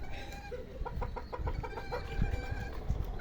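A small rooster at a zoo clucks in a quick run of short repeated notes against a low, busy background rumble.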